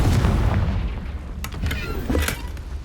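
A Confringo fire spell from Hogwarts Legacy goes off as a booming blast with a low rumble, followed by a couple of sharp crackling bursts over a muffled game background.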